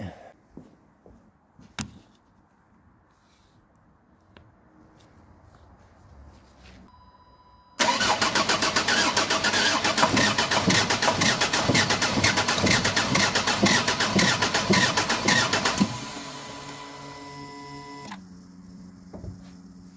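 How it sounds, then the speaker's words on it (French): A Jeep Grand Cherokee WJ CRD diesel engine, just fitted with a replacement number five injector, cranks and fires after quiet clicks, then runs loud and rough for about eight seconds before settling into a lower, steadier idle. "Je vais démarrer, voir si ça démarre."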